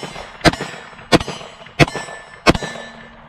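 Four .38 Special revolver shots fired with White River primers, loud sharp cracks spaced roughly evenly about two-thirds of a second apart, each with a short ringing tail and no talking.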